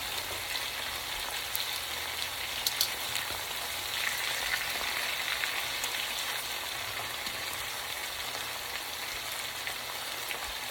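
Meatballs for Mexican albondigas soup frying in a pan, giving a soft, steady, continuous sizzle with faint crackles throughout and no voices.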